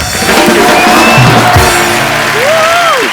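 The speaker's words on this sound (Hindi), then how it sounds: "जोरदार तालियां ऋतिक रोशन, आशुतोष गोवारीकर एंड पूजा के लिए" Loud audience applause with cheering and whoops for Hrithik Roshan, Ashutosh Gowariker and Pooja on The Kapil Sharma Show, a dense, steady roar of a studio crowd that fills the whole moment.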